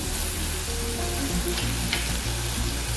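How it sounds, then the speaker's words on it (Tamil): Onions and tomato sauté in a pan for rava idli, giving a steady, dense sizzle that runs unbroken throughout at close range, with no voices. "கொஞ்சம் வதங்கணுங்க. வதங்கட்டும்."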